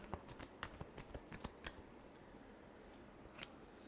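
Tarot cards being shuffled by hand, a quiet run of soft riffling flicks and snaps, busiest in the first second and a half and thinning out afterward, with one more sharp flick near the end.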